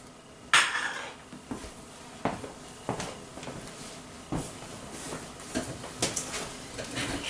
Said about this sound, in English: I'm just going to cut off a little piece here